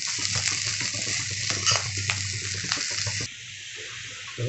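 Baby potatoes roast and sizzle in a pan, a dense steady frying hiss with occasional stirring scrapes, close and continuous throughout, dropping slightly in level near the end.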